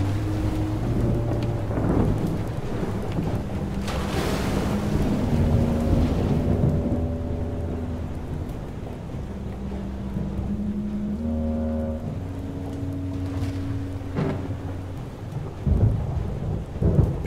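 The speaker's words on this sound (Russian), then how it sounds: "Прям реально прячемся от молнии, от грозы." A thunderstorm rages in the video game FAR: Changing Tides. Steady rain hisses under deep, rolling thunder that swells and fades several times, with a low horn-like drone beneath and no speech.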